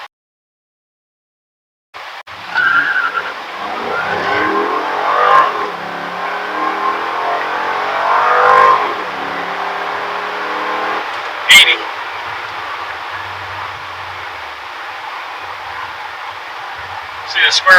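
A 2008 Pontiac G8 GT accelerates hard on launch, engine rising in pitch through the gears with a loud, close revving roar that builds and then settles into a steady drone.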